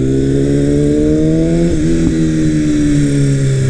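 A 2018 BMW S1000RR motorcycle with an Akrapovic exhaust runs at a steady, deep droning note that dips briefly midway, loud and close, with no talking.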